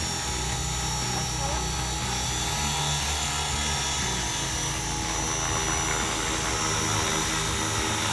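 Radio-controlled Bell 206 model helicopter flying, a steady continuous rotor and motor whine heard throughout, with someone talking over it.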